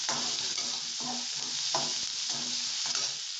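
Crushed garlic cloves sautéing in oil for sambar, with a dense continuous sizzle and a few rhythmic spoon strokes stirring the pan, close up and without voices.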